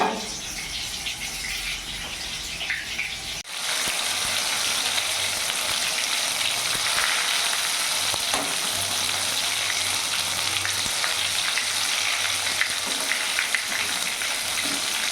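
Lotte fish pakoras sizzle in hot oil in a pan, a steady crackling hiss that stays close and constant, with a brief shift in tone early on and no talking.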